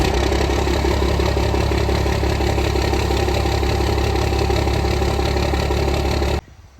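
A 1997 Cummins 12-valve diesel truck engine idles cold, loud and close with a steady low clattering rumble that runs unbroken, then cuts off abruptly near the end.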